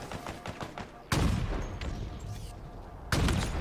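Rockets fire from a launcher in Halo Infinite multiplayer: two loud, booming launches roughly two seconds apart, each with a rushing tail, over busy lighter gunfire and game noise.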